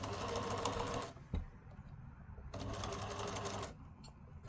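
A sewing machine stitching across the seam of a patchwork stocking: two bursts of rapid, buzzing whirr separated by a pause with a brief clunk, close and clear.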